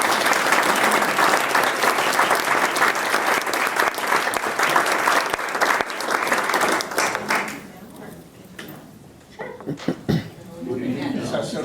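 A crowd at a United Way kickoff event claps loudly and steadily for several seconds, with some chuckles, then the applause thins out and voices and scattered sounds take over toward the end.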